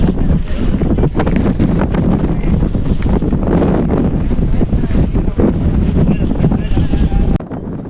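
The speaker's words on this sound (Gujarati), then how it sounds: "તો પવન તો અત્યારે અહીં ફૂલ એવો છે" Strong wind roars steadily across the microphone on Girnar hill, loud and buffeting throughout, with a faint voice buried underneath.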